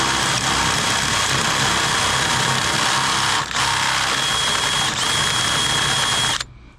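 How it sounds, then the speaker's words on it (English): A power drill bores into a 3/4 inch wooden board to recess a bolt flush, whining loudly and continuously with two brief dips in speed before stopping abruptly. "we're going to drill this out a little bit so the bolt sits in there real nice and it'll be flush with the wood"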